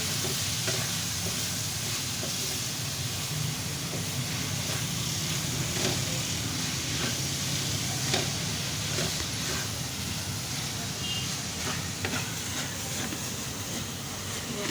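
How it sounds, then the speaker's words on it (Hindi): Beef keema fries with spices in a karahi, giving a continuous dense sizzle punctuated by soft rhythmic scraping from stirring. The sound is close and even, with no talking. "इसको अच्छी तरह मसाले के साथ मिक्स करके"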